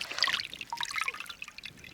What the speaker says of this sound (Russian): Мы им меняем воду, они себя все прекрасно чувствуют.